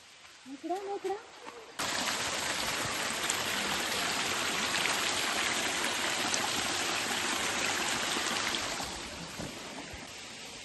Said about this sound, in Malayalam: അത് നമ്മുടെ പാറയുടെ മുകളിൽ നിന്ന് താഴത്തേക്ക് വെള്ളം ചാടുന്ന കാണാൻ തന്നെ പ്രത്യേക ഒരു ഭംഗിയാണ്